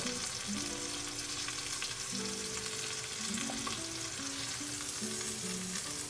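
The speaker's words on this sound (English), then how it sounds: "with the meat having been browned, we'll transfer it to the main pot, not forgetting to also brown the twin brother" Pot roast beef browning in a hot pan, a steady loud sizzle and crackle throughout with tonal hums layered underneath.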